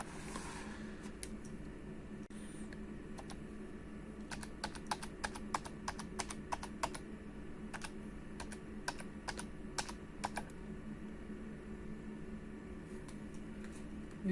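Keys tapped on a computer keyboard while a license code is entered into marine navigation software, a quick run of light irregular clicks over a faint steady room hum.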